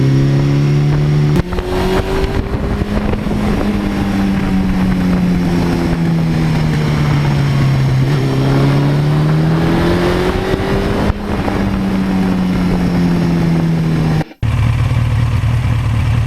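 A 38-year-old Suzuki GS1100E motorcycle engine runs loud and close, its steady droning note rising and falling through several revs, then cuts out briefly near the end before the idle picks back up.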